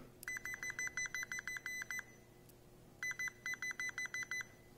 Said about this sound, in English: Got our Fluke 87 meter here, set on tone.